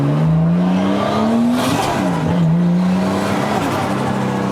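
A Nissan Cefiro A31 with an RB25DET turbo engine revs and accelerates, its engine note rising steadily in pitch, dipping briefly at a gear change, then climbing again, loud and close from inside the cabin.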